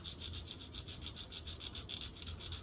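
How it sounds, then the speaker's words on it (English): A toothpick is rubbed rapidly back and forth across bare metal foil laid over raised emblem letters, giving a quiet, close, rhythmic scratchy rasp with about a dozen even strokes. "I'm kind of burnishing it with the side of the toothpick here, just back and forth across the letters."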